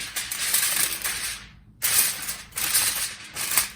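Tin foil being crumpled and pressed over a kingfish fillet gives close, crinkly rustling in bursts, with a brief pause in the middle.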